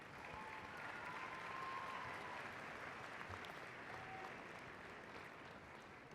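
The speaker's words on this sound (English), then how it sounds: "a round of applause for the baccalaureate graduates from University College" Graduation ceremony crowd applauding baccalaureate graduates, a broad, even wash of clapping from a large hall heard somewhat distant, with faint whistles over it and no one speaking.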